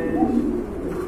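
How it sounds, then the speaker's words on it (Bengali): A Jharna satin pigeon coos at a pigeon market, a soft, rolling low coo heard up close and continuous for its brief length, with no voices over it. "আরেক জোড়া ঝর্ণা শাটিন কবুতর, মাশাআল্লাহ খুবই সুন্দর"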